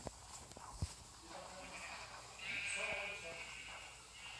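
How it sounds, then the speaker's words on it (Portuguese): Sheep in the Minecraft video game give a single drawn-out bleat in the middle, after a few soft clicks and thumps, over a quiet background. "Achei a ovelha. Achei 2 ovelhas."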